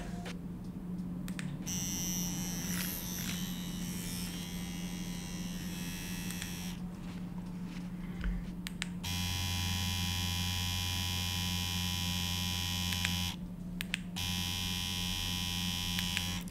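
A steady electric buzzing hum of a Bootes Wormhole Pro cartridge tattoo machine running at 8 volts, with a brief pause before it resumes at the same even pitch.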